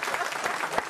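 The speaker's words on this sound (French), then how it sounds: "Applause." A radio studio audience at RTL's Les Grosses Têtes, on Bouvard's final show, applauds in a dense, continuous burst of many hands, loud and close, with some voices faintly underneath.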